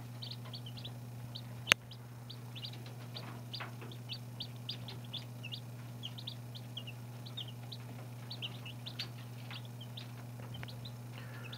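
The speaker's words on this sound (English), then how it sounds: "So here they are, about 3 days old. Four Buff Orpingtons and five Black Australorps." Three-day-old Buff Orpington and Black Australorp chicks cheep in rapid, scattered high peeps, fairly faint and close, over a steady low electrical hum with one sharp click near the start.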